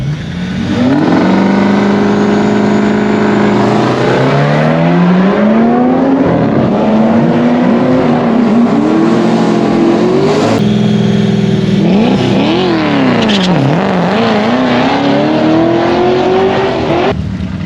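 An FPV 335GT making a drag strip run, loud and close, with the engine climbing through repeated gears, each rising rev sweep broken by a brief shift dip, then a further run of revs near the end. No talking is heard.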